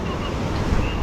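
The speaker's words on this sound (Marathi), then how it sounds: "लाटा बघा जबरदस्त," Sea waves surge against the ghat steps at Gomti Ghat in Dwarka, a steady, close, full-bodied rush of surf with wind noise across the short stretch.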